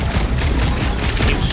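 Dense, continuous gunfire in the video game Guardians of the Galaxy, a loud sustained barrage of rapid shots and booms with no pause across the whole moment.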